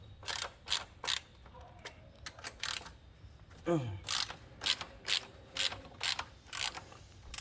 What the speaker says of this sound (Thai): คลายน็อตนี้ก่อน